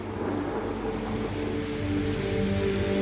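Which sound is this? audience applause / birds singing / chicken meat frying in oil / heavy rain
heavy rain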